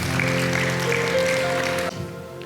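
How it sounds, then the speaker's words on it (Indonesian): A church congregation applauds for Jesus during an Indonesian evangelist's sermon, a steady wash of clapping under sustained organ or keyboard tones. The clapping cuts off abruptly near the end. "Tepuk tangan dong buat Tuhan Yesus."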